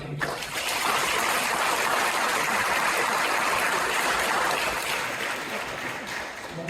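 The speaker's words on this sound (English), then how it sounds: "A round of applause for Daunte." Sustained applause from an audience at a poetry festival ceremony, a dense steady patter of many hands clapping that swells quickly and then fades slightly toward the end.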